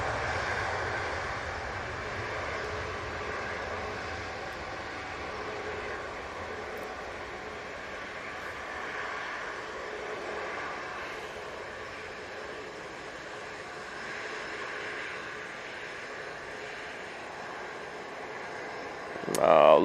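A Lufthansa Airbus A320neo leaves Manchester Airport for Munich, its engines a steady distant roar that holds for many seconds before a sudden close thump near the end.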